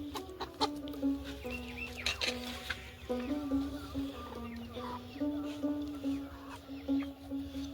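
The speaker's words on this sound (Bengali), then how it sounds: "বড় মুরগিগুলোকে খাবার দিচ্ছে আর ওদিকে ছোট মুরগিগুলো ছটফট করছে।" Chickens being fed cluck repeatedly at close range in an uneven, busy rhythm, with scattered sharper calls mixed among the clucks.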